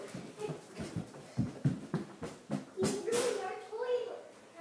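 A dog whimpers and whines in short, repeated bursts close by, with a second whining stretch toward the end, mixed in with household noise.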